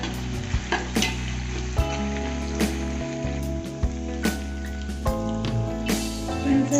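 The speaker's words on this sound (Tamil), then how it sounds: "இதில் பச்சை பட்டாணி 1 கப் போட்டுக்கலாம். அதுவும் போட்டு நல்லா ஃப்ரை பண்ணுவேன்." A cup of green peas frying and being stirred in a hot pan, with steady close sizzling and intermittent scraping of the spoon against the pan.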